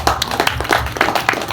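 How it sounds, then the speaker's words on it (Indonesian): Audience clapping at an evaluation meeting of party officials preparing for the 2024 regional election, a brief burst of many hands close by with dense irregular claps and no speech. "Tepuk tangan sekali lagi."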